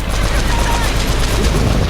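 Dense, rapid bursts of machine-gun fire in the game Uncharted, loud and continuous, with brief mechanical clatter.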